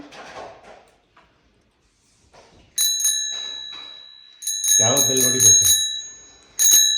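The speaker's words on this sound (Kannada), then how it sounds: "ಬೆಲ್ ಹೊಡಿಯಪ್ಪ." A bicycle bell is rung several times, sharp metallic dings coming in short repeated bursts and a final ring, close and clear, while voices talk briefly nearby.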